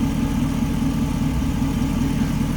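A 1932 Ford Model B Roadster street rod's engine idles steadily at close range, a low, even rumble with a faint lumpy pulse that holds constant throughout without any revving.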